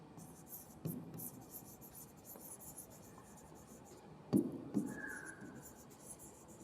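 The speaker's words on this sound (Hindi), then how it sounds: "पहले तो हम चैप्टर का नाम लिखेंगे।" Pen or marker scratching out a chapter heading on a board or page, soft intermittent strokes with a few louder taps, close and quiet, with faint room noise between strokes.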